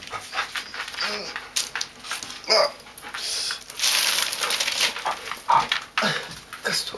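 A dog whimpers and gives short yips and barks amid a noisy scene of people moving about, heard in short bursts under loud chatter and shouting.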